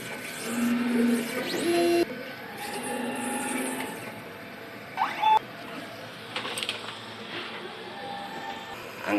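A DTF printer runs a nozzle check, with mechanical whirring, carriage movements, short electronic tones and clicks in irregular bursts, moderately loud and close.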